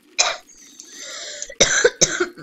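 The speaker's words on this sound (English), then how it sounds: "Sorry about that, guys. Little cough." A person coughs into a microphone, one short sharp burst followed by a pause, then two more harsh coughs in quick succession, close and clear.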